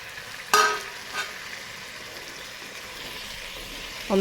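Marinated chicken with tomato and capsicum hitting a hot pan gives a sharp sizzle burst, then a soft stir and a low steady frying hiss, with another sizzling flare at the end.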